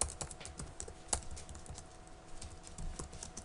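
Typing a Telnet command on a computer keyboard gives a quiet, steady string of quick key clicks at close range, with no voices.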